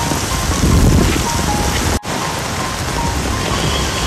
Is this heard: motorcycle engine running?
no